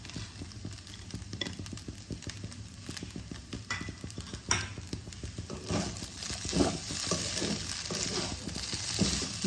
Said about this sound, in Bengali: এবার আমি ভেজে রাখা কাজু, কিশমিশ আর বাদামগুলোকে দিয়ে দিলাম।